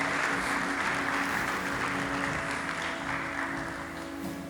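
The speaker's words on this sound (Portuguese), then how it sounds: "Você pode aplaudir o Senhor por isso." A church congregation applauds during a sermon, a dense, steady wash of clapping from many hands that stays even and fills the room before easing slightly toward the end.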